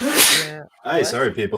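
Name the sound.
sneeze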